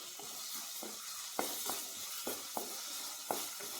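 Tomato dropped into a hot pan for egg rice sizzles with a steady hiss, punctuated by several light clicks and scrapes of stirring, quiet and with no voices.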